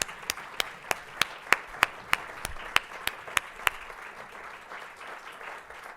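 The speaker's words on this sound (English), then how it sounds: "so we can give you a round of applause and thank you for your contribution" Sparse, evenly spaced sharp claps, roughly a dozen in about four seconds, heard faintly against a quiet room at a lecture honoring a scientific planning committee, trailing off near the end.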